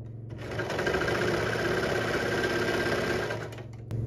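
An overlock sewing machine runs a test seam on trousers, starting up after a brief pause, whirring loudly and continuously for about three seconds, then stopping.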